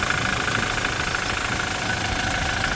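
A 2020 Toyota Hilux SR5's 2.8-litre four-cylinder engine idles with a steady, close, rumbling drone and no voices.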